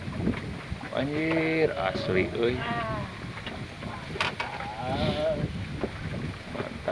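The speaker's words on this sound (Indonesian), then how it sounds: "pagi-pagi di tengah angin yang besar." Strong morning wind at a lake during fishing, rumbling and buffeting the microphone continuously while people talk and exclaim nearby.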